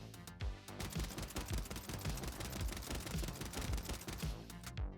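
Rapid sustained automatic fire from an SVA assault rifle in the Warzone video game, a dense unbroken stream of sharp shots for several seconds with no talk over it.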